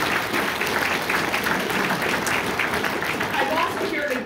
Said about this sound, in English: So give Devin Dreeshen a round of applause.